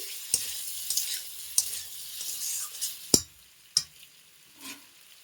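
Semolina mix with chili flakes and chopped hybrid coriander stirred in a pan, with a soft steady sizzle and several sharp scraping clicks of the spoon against the pan, close and fairly quiet, no talk.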